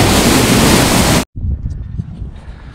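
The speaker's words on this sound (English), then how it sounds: "Probably at one of the best spots of Bushkill Falls." Rushing water at Bushkill Falls roars loud and steady as a broadband wash, then cuts out briefly and resumes as a softer, rumbling flow with gusty wind-like texture.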